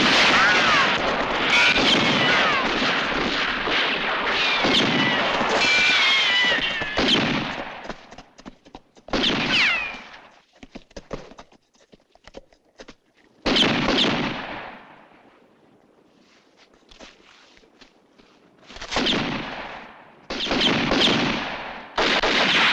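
Gunfire rings out during a western movie shootout, several loud, sharp shots and bursts spread over the scene with pauses between them, mixed with shouting voices and action noise.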